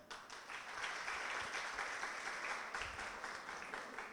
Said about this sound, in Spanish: para el cual pido otro aplauso